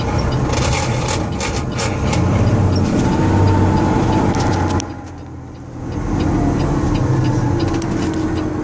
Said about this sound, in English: This truck has just enough room on this road to make it.